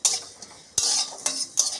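Fennel, coriander and cumin seeds dry-roasting in an empty pan for mango pickle spice, heard as a few distinct scraping stirs of a metal spoon against the pan with quiet gaps between.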